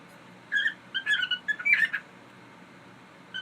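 Pet birds give a string of bright whistles and sharp squawks, close and fairly loud, in a quick burst of calls lasting about a second and a half before the room falls quiet.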